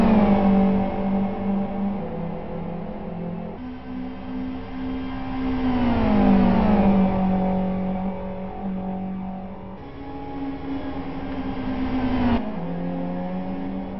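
Race cars in an XRx3 Cup final, heard as a continuous engine whine that rises and falls with gear shifts, loud and near with no talk over it.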